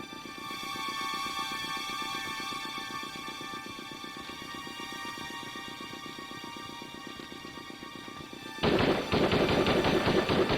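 Ammunition cooking off in a fire in the Broken Sword 2 video game: a steady rapid crackling rattle with a droning hum underneath, then an abrupt louder, harsher burst near the end.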